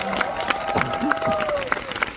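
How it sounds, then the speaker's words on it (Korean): Audience applause at a special film screening and talk event, with a continuous patter of clapping and light cheering as a voice speaks over it. "박수 부탁드립니다"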